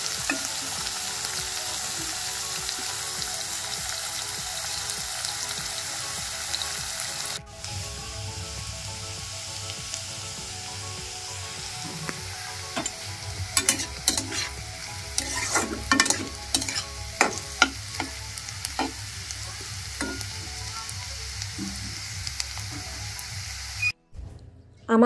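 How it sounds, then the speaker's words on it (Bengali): Vegetables fry in a pan in a home kitchen, a steady broadband sizzle running throughout with repeated clinks and scrapes of stirring in the second half, then cutting off abruptly near the end. "তো চলো সবজিগুলো আমি আগে ভেজে দিই"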